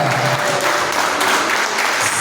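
Church congregation clapping for Jesus during a Portuguese-language worship service, a steady dense patter of many hands filling the short stretch at an even level, no voices standing out.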